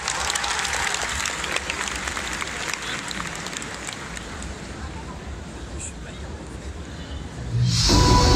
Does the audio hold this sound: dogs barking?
no